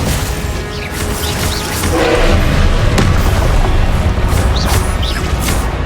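Confringo blasting curse from Hogwarts Legacy going off amid a dense spell battle: a sustained loud rumbling blast with crackling debris and repeated booming impacts, no talk.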